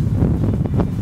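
Wind buffets the microphone outdoors at a model airplane flying field, a loud, rough, low roar that lasts the whole second.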